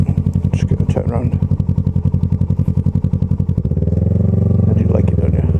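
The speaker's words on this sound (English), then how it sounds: "Probably ruining the quietness of my exhaust." Kawasaki ER6f Ninja 650 motorcycle exhaust while riding, a loud steady rhythmic engine pulse that shifts to a deeper, smoother drone partway through, with a voice talking over it.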